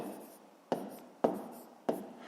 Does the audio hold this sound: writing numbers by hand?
yes